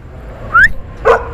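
A street dog in a neighbourhood lane gives two short vocal bursts, a rising yelp followed by a bark, fairly close and loud over faint background noise.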